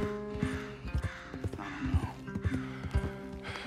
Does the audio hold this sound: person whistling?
no